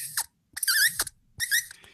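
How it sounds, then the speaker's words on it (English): A table tennis ball pushed across worn, old rubber gives three short, bright squeaks with brief pauses between them, close and clear with no talk over them. "If I get an old rubber that isn't as good, you can see that, you can hear that squeak."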